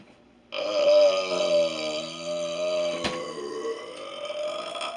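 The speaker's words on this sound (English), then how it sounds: "I've had burps like that before." A single long, loud burp rumbles on for about four seconds, wavering in pitch and rasping close to the microphone, with no talk over it.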